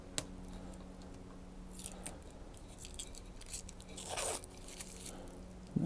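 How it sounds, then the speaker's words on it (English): A protective film being peeled off a Metalcloak taillight for a Jeep TJ gives a run of dry crackling and scraping bursts up close. A steady low hum sits underneath, and no one speaks. "I'll go ahead and peel the protective coating off."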